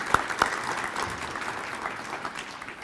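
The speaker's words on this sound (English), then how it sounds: "one more round of applause" An audience claps through a round of applause at a college foundation donor appreciation and scholarship celebration, a couple of sharp claps standing out early before steady, moderately distant clapping carries on.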